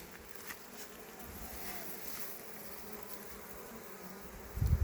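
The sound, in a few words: honeybees buzzing around a beehive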